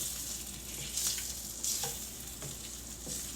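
A small piece of leftover sausage sizzles in a frying pan beside pancakes, a steady close crackle with a few brief louder pops and stirring scrapes, no talking.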